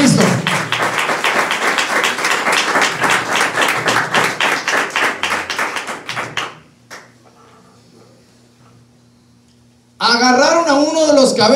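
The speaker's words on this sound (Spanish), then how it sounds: "Un aplauso a Cristo." Church congregation clapping in a quick steady rhythm for several seconds, fading to near silence before a voice resumes speaking.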